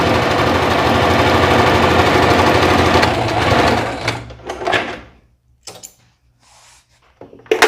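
A sewing machine stitching a French seam, running fast and loud at close range for about four seconds, then slowing into short uneven bursts separated by silences, with handling knocks at the end and no talking.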